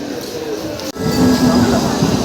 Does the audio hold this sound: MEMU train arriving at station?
yes